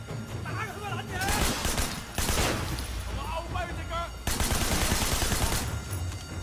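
Shotgun blasts and bursts of gunfire ring out in the Sleeping Dogs video game, coming in several loud clusters with speech mixed in among the shots.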